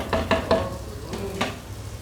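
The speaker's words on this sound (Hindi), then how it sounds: "अब ये बटर में और मसाले में चिकन पकेगा।" Chicken cooking in butter and spices in a handi pot: a few scraping stirs in quick succession over a soft, steady sizzle, close and fairly quiet.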